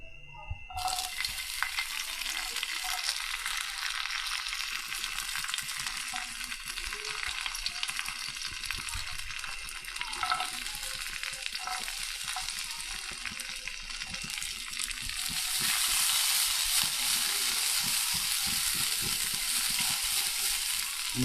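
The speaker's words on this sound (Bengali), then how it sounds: "তো এখন আমরা আমাদের কাজুটা আর কিশমিশটা ফ্রাই করে নেব।" Cashews and raisins frying in a pan make a continuous close sizzle with occasional stirring clicks, the hiss swelling louder in the final few seconds.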